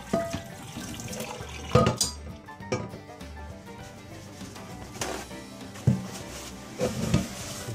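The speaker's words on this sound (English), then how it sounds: "You can turn the water on and get all that sediment out" Tap water runs into a sink while a cast iron pan is rinsed of sediment, salt and oil, a steady splashing stream with scraping clatters of the pan throughout, no talk.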